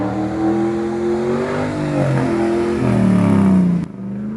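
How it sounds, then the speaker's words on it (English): A V8 engine roars and growls as a car claws its way out of deep mud, a loud, close, sustained rumble that rises in revs toward the end before suddenly easing off. "the mighty V8 roared to life, clawing its way through the mud to get out, growling the entire way."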